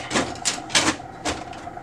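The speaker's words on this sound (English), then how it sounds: "once you hear it click, then you know it's stabilized in the drum" Several short plastic clicks and snaps as a toner cartridge is seated into the drum unit of a Brother MFC-7440N laser printer, four distinct bursts spaced unevenly, close and fairly crisp.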